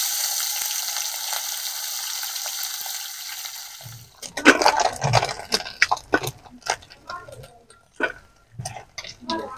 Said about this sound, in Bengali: এদিকে তেলও গরম হয়ে গেছে। এবারে আমি প্রথমে মোরলা মাছগুলোকে ভেজে তুলে নেব।